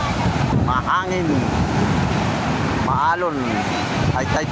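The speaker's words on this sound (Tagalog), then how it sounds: "maalon, high tide na, high tide ang dagat dito sa Lemery, Batangas." Rough high-tide surf at Lemery, Batangas keeps up a continuous loud wash and rumble of breaking waves. Brief voices rise over it twice.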